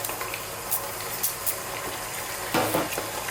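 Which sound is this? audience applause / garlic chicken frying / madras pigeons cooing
garlic chicken frying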